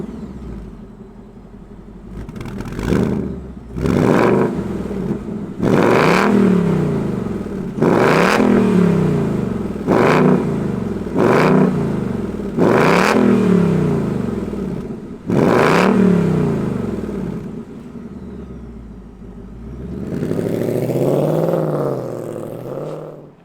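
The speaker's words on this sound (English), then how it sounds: "let's fire up this 5-liter and hear what it sounds like" A 2022 Ford Mustang GT's 5-liter engine starts and idles, then roars through a rapid series of about seven sharp revs close up, with a final longer rev at the end.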